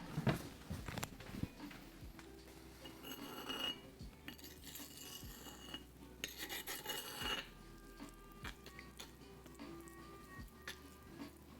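A spoon stirs a fregola pasta salad with pesto and summer squash in a bowl, giving a continuous close scraping, rasping rub with light clinks and soft patters, steady and moderately quiet, with no talking.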